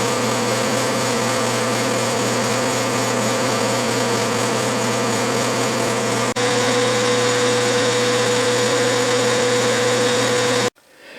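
A small Unimat lathe turns down a shank's diameter, a steady close whining hum with a constant tone that runs unbroken, one brief click midway, then stops abruptly near the end.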